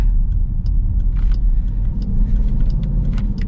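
Dodge Durango R/T with its Hemi V8 pulling hard in sport mode, a deep, loud, close rumble with throbbing low end and faint rattles on top, no talk.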